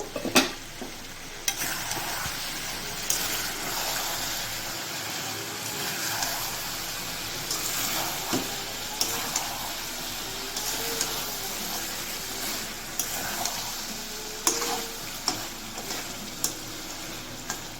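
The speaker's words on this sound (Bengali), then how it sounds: "একবার নাড়াচাড়া করে আমি এতে ঢাকনা দিয়ে দেবো" Chicken curry gets stirred in a frying pan, a continuous close sizzle with repeated scraping strokes and soft clicks of the spatula against the pan at a steady, unhurried pace.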